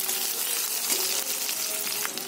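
Chopped onion frying in hot oil for a chicken kosha, a steady close hiss and crackle with light stirring scrapes, unbroken through the moment.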